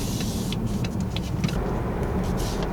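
A BMW 330i F30 running through an aftermarket exhaust gives a steady, loud, low engine drone that holds unbroken through the whole stretch, with no talking.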